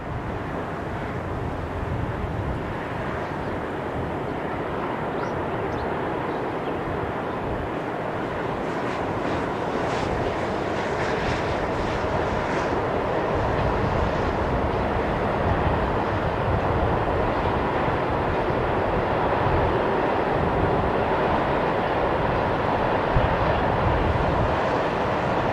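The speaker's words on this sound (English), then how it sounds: "This Class 140 heads north through the town of Osterspey." A Class 140 electric locomotive hauls a train north along the main freight line through Osterspey, a steady broadband rumble and rush that holds loud and continuous throughout, building slightly as it passes.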